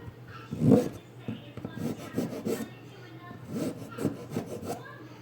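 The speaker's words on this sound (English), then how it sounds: "A coarser file." Coarse metal file rasping on an RC truggy part during assembly, giving a series of short, close scraping strokes in an uneven rhythm, fairly quiet and with no talk over it.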